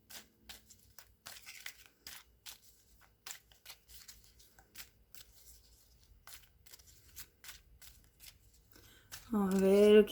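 Tarot cards being shuffled by hand, a series of quick, papery riffles and flicks in short bursts at close range, with a voice speaking briefly near the end.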